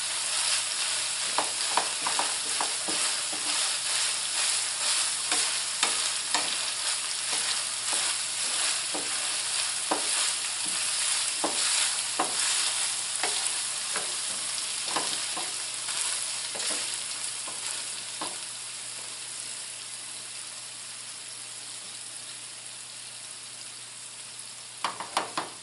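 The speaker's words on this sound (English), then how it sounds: "When it sizzles, that moisture is gone and it's just grease." Ground beef frying in a pan, a constant bright sizzle crackling throughout, broken by repeated scraping stirs of a utensil that thin out toward the end.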